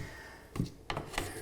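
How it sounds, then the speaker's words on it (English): Hardwood floor boards being angled in and click-locked together over heated tile in a bathroom, giving three short, sharp clicks and knocks at close range with no talking. "they click lock together. There we go. When you hear that sound, you know you've got it right."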